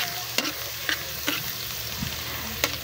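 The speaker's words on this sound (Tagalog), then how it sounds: "Painitin muna natin yung mantika bago natin ilagay yung bawang" Garlic frying in hot oil, a steady soft sizzle broken by several sharp stirring scrapes and clicks from a utensil against the pan.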